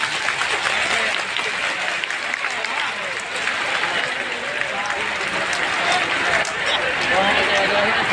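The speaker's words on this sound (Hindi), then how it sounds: "जोरदार ताली से स्वागत" Loud, sustained applause from a large rally crowd in Darbhanga, Mithila, welcoming Finance Minister Nirmala Sitharaman, dense clapping with crowd voices mixed throughout.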